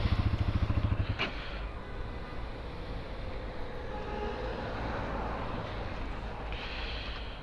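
A 2023 Bajaj Pulsar NS200 motorcycle engine runs close by with a rapid idle pulse for the first second, then a steady broad road and engine rumble continues as it rides, with no talk.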